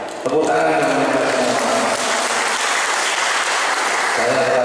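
An audience at a Jokowi volunteer rally in Nganjuk breaks into loud, sustained applause, dense clapping from a large crowd that holds steady for several seconds, close and without pause.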